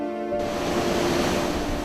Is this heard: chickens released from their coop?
no